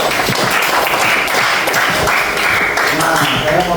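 An audience claps steadily during a school guidance counselling session, a dense, continuous patter of hands at close range lasting a few seconds, with voices mixed into the applause.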